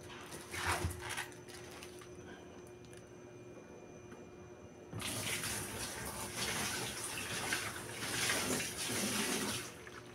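A washing machine drains water after its rubber drain plug is repaired; a steady rushing flow of water, fairly close, growing louder and fuller about halfway through and continuing to the end.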